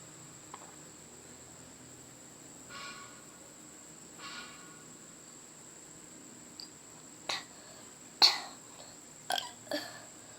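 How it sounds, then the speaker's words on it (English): Several short burps come in a burping challenge, faint early ones and then louder bursts near the end, over a quiet background with a steady high insect-like hum. "I'm gonna try to burp so bad"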